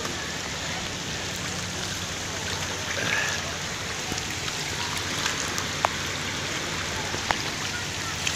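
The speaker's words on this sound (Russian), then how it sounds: "в Геленджике после месяца, ну, почти месяца жары, ливень." Heavy rain downpour in Gelendzhik after a month of heat, a steady dense hiss of rainfall with occasional louder drips and splashes close by, continuous throughout.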